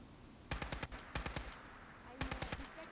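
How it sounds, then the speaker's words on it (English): Gunfire in the video game Fallout 4: two bursts of rapid automatic shots, several sharp cracks each, separated by a short lull, moderately loud over a low ambient background. "I hear a lot of gunfire that isn't mine."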